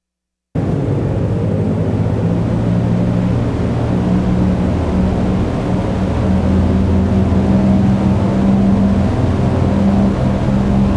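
Piston engines of a Lockheed Constellation in a flight simulator, running as a loud, steady, throbbing drone with no speech over it.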